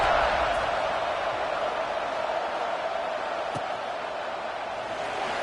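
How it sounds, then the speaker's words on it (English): A college football stadium crowd at SMU vs USF buzzing after a touchdown, a dense, steady roar of many distant voices that holds at an even level for several seconds with no distinct cheers. "this crowd is buzzing after that last score"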